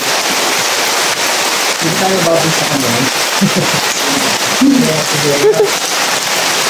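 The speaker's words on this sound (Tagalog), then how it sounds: "Guys, ang lakas ng ulan!" Heavy rain hisses steadily as a dense wash of noise, with people talking and calling out under the downpour.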